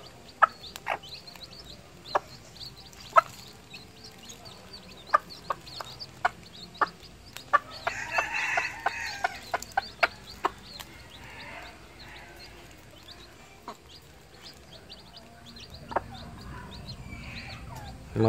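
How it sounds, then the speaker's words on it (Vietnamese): Newly hatched chicks peeping, with scattered sharp high chirps repeating irregularly at close range over a faint background, joined in the middle by a brief louder burst of noise. "Gà con rất là thích cưng."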